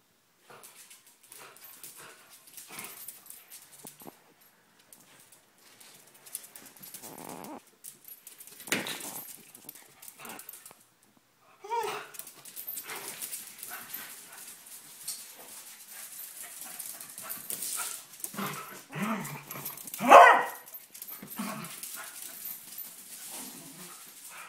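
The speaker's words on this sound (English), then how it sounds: "Is he barking at you?" A dog whimpers and gives scattered soft yips and barks, with quiet rustling between, one louder bark-like burst near the end.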